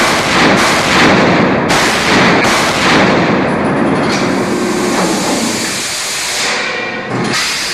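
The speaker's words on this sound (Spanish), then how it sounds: "De pronto tuvo lugar la primera explosión." A bomb set near the beach water during the Gulf War detonates in a series of loud, sharp blasts followed by rolling, rumbling roar and debris noise, continuous and heavy for several seconds.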